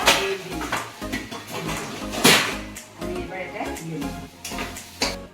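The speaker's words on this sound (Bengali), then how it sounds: "আমার পটল ভাজা" Pointed gourd (potol) fries in a pan while being stirred: irregular scraping and clanking of a utensil against the pan over a soft sizzle, with someone talking over the cooking.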